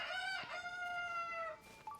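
A cucco from Zelda: Tears of the Kingdom gives a drawn-out, high-pitched squawking call, clear and fairly near, followed by a brief shorter cluck.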